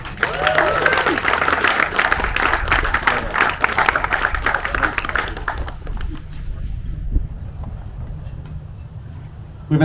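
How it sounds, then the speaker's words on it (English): Audience applause at a sailing awards ceremony for ILCA 7 class results at a yacht club, sustained clapping from a modest crowd that tapers off after about six seconds. "In 2nd place, big round of applause for Marshall McCann."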